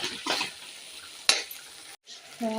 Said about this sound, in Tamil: பெப்பர் தூவி நல்லா கிண்டி விட்டுட்டோம்.